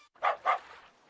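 Two quick, fairly loud barks from a dog, close by, with a short gap between them and quiet afterward.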